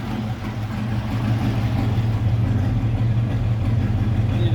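A custom 1931 Buick Series 50 convertible touring sedan with a straight-eight engine idles with a smooth, low, steady rumble at close range, alone without talk.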